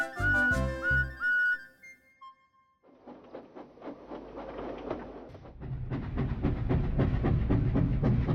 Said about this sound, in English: If you can hear me, blow your whistle.